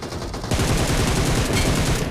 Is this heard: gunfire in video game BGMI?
yes